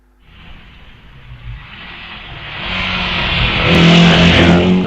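A Vauxhall hillclimb race car launches off the start line at Wiscombe Park. Its engine revs hard and builds to a loud, sustained roar as it accelerates away, with no voices over it.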